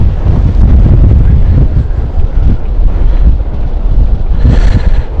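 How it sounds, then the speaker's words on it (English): Strong gusts buffet a camera microphone outdoors at Stansted Airport, producing a loud, continuous low rumble and roar that surges and dips for the whole stretch, with no clear talk. "This is the wind pushing the camera, shaking the camera"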